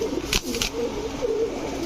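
Gorra pigeons, a breed kept for sale, give low cooing calls close by, with a couple of sharp brief sounds near the start and no talking.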